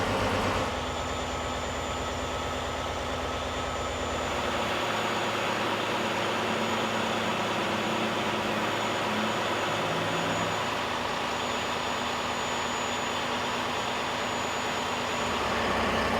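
A diesel truck engine runs a DPF regeneration, a continuous loud, even drone with a low rumble and a thin high whine, the pitch shifting slightly partway through, close and without speech.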